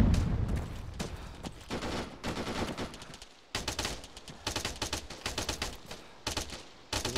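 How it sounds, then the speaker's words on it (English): Rapid bursts of automatic rifle and machine-gun fire crack through ARMA 3's combat, some rounds close and others more distant, arriving in uneven clusters with brief pauses across the stretch. "Ooh, that bullet was closer."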